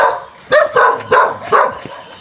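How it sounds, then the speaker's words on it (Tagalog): Several dogs bark close by in quick succession, four sharp loud barks spaced about half a second apart with a few yips between them. "Dami aso."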